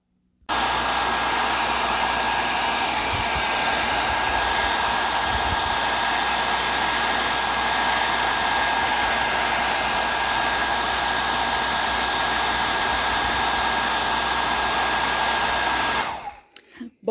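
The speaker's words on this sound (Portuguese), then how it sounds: "Eu vou dar uma secadinha com o secador" A hair dryer blows steadily at full power for about sixteen seconds, a loud, even rushing whir that starts abruptly and cuts off at the end, with no talking.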